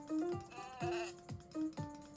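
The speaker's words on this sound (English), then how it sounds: "That's not a sheep. That's a ram." A ram bleats several times in a grass-cutting video game, repeated wavering cries with clear harmonics coming in short bursts about half a second apart, loud and close with no talking over them.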